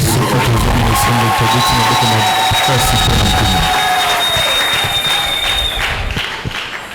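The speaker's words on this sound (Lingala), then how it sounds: "Si nous sommes dans la joie, nous acclamons très fort." A church congregation bursts into loud, sustained applause and cheering that fills the room, dense clapping with raised voices throughout, tapering slightly toward the end.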